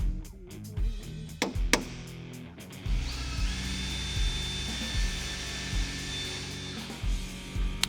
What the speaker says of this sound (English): mark our locations on the bed, drill those out, and we'll install the brackets.